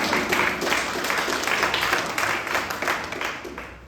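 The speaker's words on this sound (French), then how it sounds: "donc on peut vous applaudir vous aussi, je pense." An audience at a live stage performance of Kaamelott in L'Escarène breaks into brief, lively clapping that thins toward the end.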